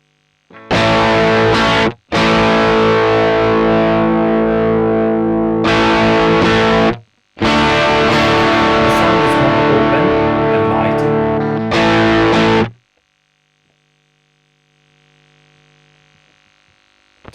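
Electric guitar through an Orange Getaway Driver overdrive pedal with its bite control engaged, loud distorted strummed chords in several bursts separated by brief gaps, ending in near silence with faint hum.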